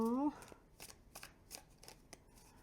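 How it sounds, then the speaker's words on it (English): A small Sea in Moonlight tarot deck is side-shuffled by hand in a quick series of soft, papery riffling bursts, with a person speaking briefly at the start and end. "Maybe a side shuffle for these mini versions."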